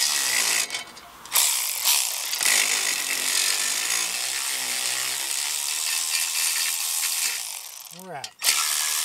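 A ratchet wrench clicks steadily while removing 13 mm bolts from a Briggs & Stratton 190cc engine on a Toro TimeMaster mower, a close, continuous mechanical rattle with brief pauses.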